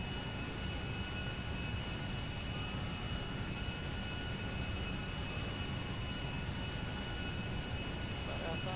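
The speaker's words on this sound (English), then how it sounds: "Look at the puny helicopters." Helicopters flying in the video game GTA's director mode, a constant, loud rotor and engine roar with steady tonal whine that holds unchanged throughout, no voices over it.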